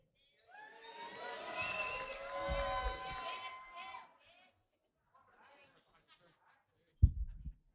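Wedding guests cheer, applaud and whoop after a toast for a few seconds, then fade to quiet, followed by a brief burst near the end.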